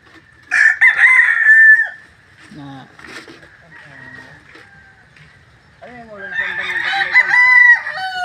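Chickens and roosters at a rural provincial home by the sea crow loudly and close by, with one long crow, then quieter clucks and calls, and another crow rising at the end.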